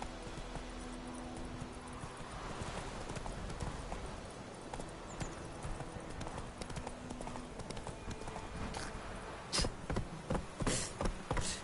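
Roach, the horse in The Witcher 3, clip-clops along in a steady rhythm of hoofbeats over game ambience with insect buzz, and the hooves grow louder and sharper in the final two seconds.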